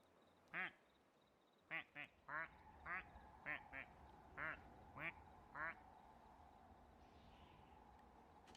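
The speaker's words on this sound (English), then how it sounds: "There are a lot of ducks here." Ducks quacking in Zelda: Tears of the Kingdom, about nine separate short quacks spaced irregularly over a low game ambience, fairly faint and with no talking.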